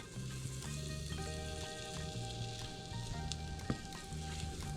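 Butter crackles and sizzles in a hot frying pan at medium-high heat, a faint steady hiss with occasional small pops, and a low hum running underneath.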